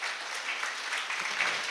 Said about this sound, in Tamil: அவருக்கு ஒரு மிகப்பெரிய ஒரு கரகோஷத்தை கொடுத்துருங்க